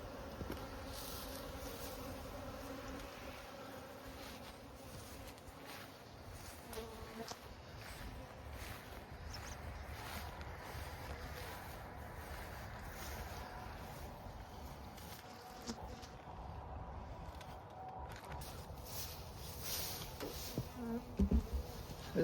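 Honey bees in a bee yard during swarm season hum in a dense, steady buzz that fills the whole stretch, loud and continuous with no one talking.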